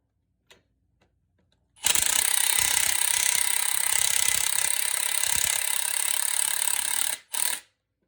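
Power ratchet runs on a sway bar end link of a third-generation Toyota Tundra, a loud continuous rattling buzz for several seconds that stops, then gives one short final burst, close and without talk.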